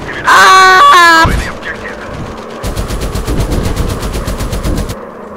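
Rapid machine gun bursts from a WW1 fighter plane in a flight combat video game, a steady rattling stream of shots lasting a couple of seconds, preceded by a brief loud vocal exclamation.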